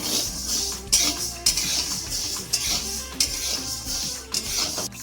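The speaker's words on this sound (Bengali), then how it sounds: "কড়াইতে আমি সাবু দিয়ে দিচ্ছি হালকা করে একটু ভেজে নেবো" Sago pearls lightly dry-fried in a wok, with repeated sharp scrapes and clinks of a spatula against the metal pan over a soft background hiss, close and fairly loud.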